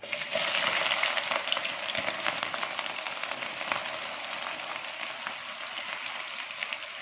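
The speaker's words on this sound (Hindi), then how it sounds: "ऑयल गर्म हो चुका है, अब हम इसमें प्याज डालेंगे, 4 से 5 दरमियाने साइज़ की बारीक कटी हुई प्याज" Finely chopped onions hit hot oil in a pot for chicken haleem, giving a loud, dense, hissing sizzle that starts strong and gradually eases to a steady crackle, close by and without talk.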